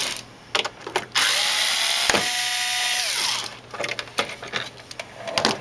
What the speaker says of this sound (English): There's four screws that hold the pedestal, so we're going to take that off first.